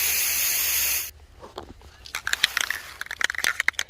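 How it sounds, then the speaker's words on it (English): An aerosol can sprays brass/gold paint onto an anthill casting in a loud continuous hiss lasting about a second, followed by scattered crackling and tapping handling noises close by. "Just spray them good. Get a good thick layer of the brass / gold."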